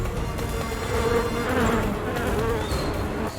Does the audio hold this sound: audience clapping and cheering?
no